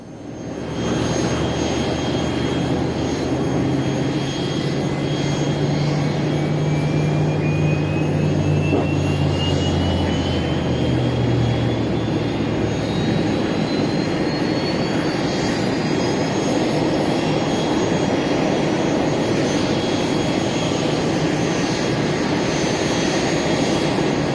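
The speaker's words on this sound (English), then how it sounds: "With the Nat trio starting up, the Spitfire doesn't stand a chance." Three Folland Gnat jets start their engines at an airshow, a continuous loud turbine roar and whine that stays steady throughout, with a slowly rising high-pitched whistle as the engines spool up.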